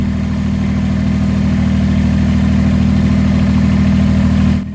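A tractor engine drones steadily at close range while hauling an anvil and its base, about 250 pounds, chained in the front bucket. The note holds level throughout and cuts off abruptly at the end.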